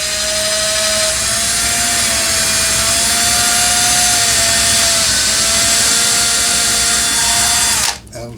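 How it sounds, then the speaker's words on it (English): A power drill bores a bolt clearance hole through plywood and balsa for a model airplane ski axle, a steady, loud, close whine running unbroken for about eight seconds before cutting off abruptly. "And now I have a drill bit my axles are 440 bolts, so I'm drilling just a clearance for 440"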